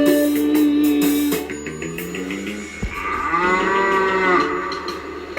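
Cattle mooing in a children's song about cows and buffalo, several long drawn-out lowing calls rising over a sung melody with steady background music.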